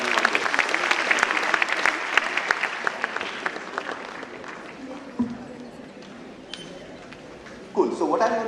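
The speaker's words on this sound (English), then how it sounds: "A round of applause for these guys for going and volunteering and coming on this." An audience at a talk in Jaipur applauds volunteers with brisk clapping that starts fairly strong, gradually fades out, and gives way to a voice starting to speak near the end.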